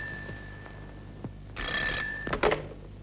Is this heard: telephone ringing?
yes